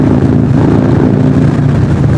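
A steady, throaty engine drone from a 2022 Harley-Davidson Road Glide Special under load in fifth gear, loud and close, holding a constant growl without talk.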